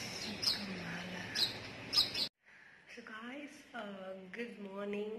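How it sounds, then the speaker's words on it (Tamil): Sparrows and crows chirping in the early morning, bright repeated calls over a busy background, then after a brief gap clearer tonal calls continue close by. "இருந்த உடனே இந்த மாதிரி தான் ஒரே குருவி காக்காலாம் சத்தமாக இருக்குது"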